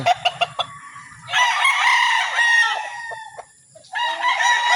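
Chickens and cockerels on a farm cluck in short bursts, then a loud, near rooster crow rings out at length, followed by another crow starting at the end.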